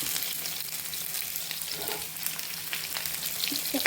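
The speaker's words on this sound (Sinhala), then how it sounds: "මේක පොඩ්ඩක් කලවම් කරලා බදන්න දෙනවා." Garlic frying with rampe and curry leaves as it is stirred: a constant close crackling sizzle with soft scraping movements and occasional louder pops, with no voices.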